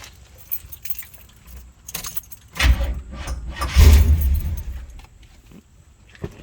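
Keys jangle, then a 1977 Chevrolet Camaro Z28 engine cranks and catches with a loud roar, settling into a rough, lumpy idle before fading.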